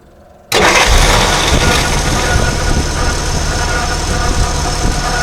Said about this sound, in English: Pull out the choke, turn the key, wait for the fuel pump to pump up.